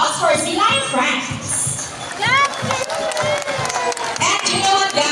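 Crowd at a sea lion show in Manila Ocean Park cheering and clapping, children's shouts and squeals rising over the noise, with an announcer's voice carrying through the babble.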